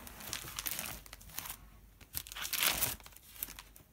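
Paper is crumpled by hand in bursts of crisp crinkling and tearing rustles that start and stop irregularly, fairly close and moderately loud with quiet gaps between.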